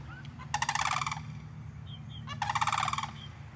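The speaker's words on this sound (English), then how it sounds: "Those turkeys are his babies." Turkeys gobbling on a homestead farm, two loud rattling gobble bursts close by, separated by a pause, over a low steady background hum.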